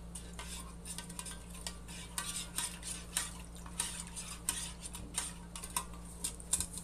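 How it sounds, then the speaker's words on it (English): A spoon stirs MRE lamb jalfrezi in a pouch or container, giving soft rhythmic scraping and clinking strokes, close and fairly quiet, over a low steady hum with no talking. "So let's go ahead and give it a stir."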